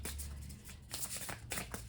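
A deck of cards shuffled close up, a soft continuous riffling and fluttering with a few brief louder bursts as the cards flip, quiet and without speech.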